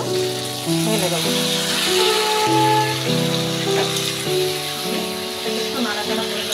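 Boiled vegetables tipped into spices frying in a little oil for Bengali shukto give a steady close sizzle that runs throughout, with music-like tonal layers playing over it.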